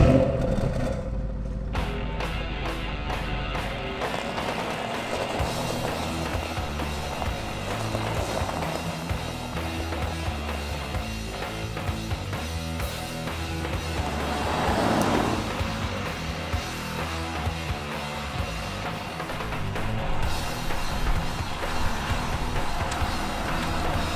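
Bentley Flying Spur V8 on the road, a continuous engine and road drone with broadband wind and tyre noise, steady and fairly loud throughout, with no talking.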